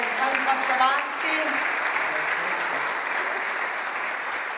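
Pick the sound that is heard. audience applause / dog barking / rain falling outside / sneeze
audience applause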